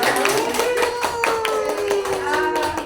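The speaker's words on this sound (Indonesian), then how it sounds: "Tepuk tangan dong." An audience at an in-house teacher training session claps hands together in a steady patter, close and fairly loud, with sustained tones ringing underneath.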